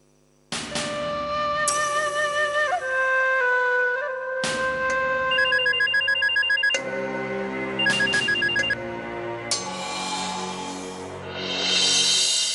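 A telephone rings in repeated electronic ringtone bursts, loud and close, in a domestic Indian TV drama scene with no talk over it.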